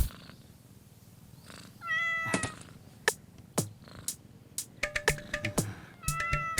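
A kitten meows repeatedly in high, harmonic cries, some short and some drawn out, coming in irregular bursts close by over a low background hum, with no talking.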